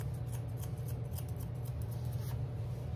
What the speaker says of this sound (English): I'm going to use my thinning scissors here with my comb and back comb there